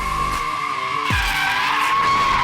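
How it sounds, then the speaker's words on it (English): Tesla drift car skidding, a sharp loud tire screech with a sustained tonal squeal and a sudden low thump partway through, close and intense with no talking. "we are drifting a Tesla."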